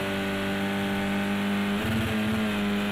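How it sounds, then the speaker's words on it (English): A touring car's engine in a racing video game screams at high revs and bounces off the rev limiter, a steady loud whine broken by a brief stuttering cut near the end. "You can hear as the revs are hitting the rev limiter there"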